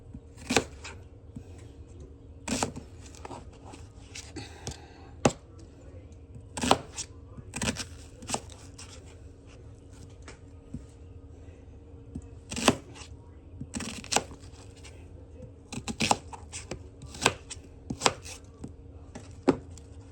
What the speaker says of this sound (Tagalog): hiwain ko to itong ano, gabi at saka onion. Sibuyas bombay.